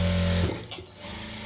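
A sewing machine whirs steadily as it stitches the lining of a blouse, a close, even mechanical hum that stops abruptly partway through, leaving quiet handling sounds.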